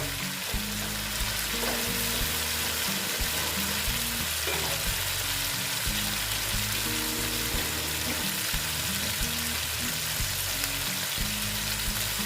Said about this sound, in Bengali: মশলার সঙ্গে ভাজা হচ্ছে খুব খেতে ভালো লাগবে